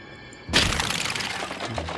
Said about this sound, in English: Smashing all the skeletons.